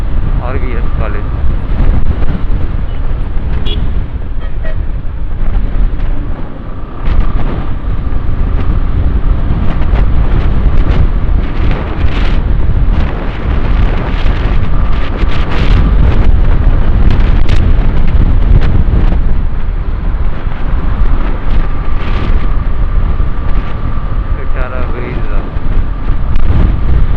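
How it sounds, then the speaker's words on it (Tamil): Strong wind buffets a motorcycle rider on Trichy Road between Sulur and Ondiputhur. A loud, continuous roar of wind and road noise runs throughout, with a voice speaking over it. "காற்று ஓவராக இருக்கு"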